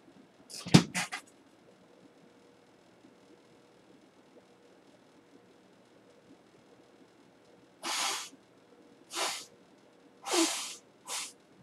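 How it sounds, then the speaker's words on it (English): A short burst near the start, then four loud breathy honking blasts of nose blowing close by, alone against a quiet background. "I gotta blow my nose here."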